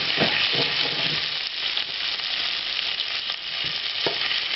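Shrimp sizzle steadily in a hot pan with red pepper flakes and salt, a loud continuous frying hiss broken by a few soft stirring scrapes and taps, with no talking.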